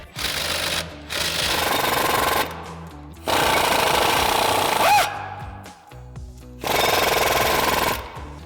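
An impact-style power tool with a swivel socket runs out the brake caliper bolts on a 2019-2024 Sierra 1500 truck, in several loud, sustained rattling bursts separated by short pauses, close to the listener.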